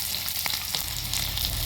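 Chopped onions frying in oil in a pan on a home stove: a steady, close crackling sizzle with small pops and a brief stirring scrape, fairly quiet and without talking.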